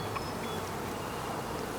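Honeybees drone inside a weak beehive, a steady close buzz holding even throughout with no talking.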